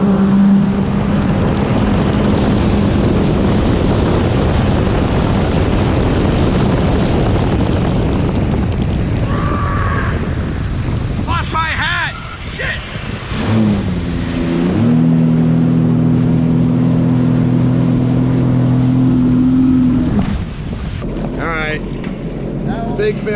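Sea-Doo RXP-X 325 and RXT-X jet skis launch and speed across the water with a constant loud engine roar and wind buffeting, then a steady rising drone as they accelerate.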